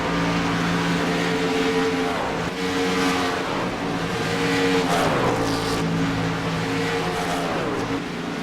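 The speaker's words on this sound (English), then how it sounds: "So the 90 here is coming down to pit road, Kenny." Race truck decelerating onto pit road during a truck race, engine note dropping and falling in pitch over a continuous loud roar of other racing engines.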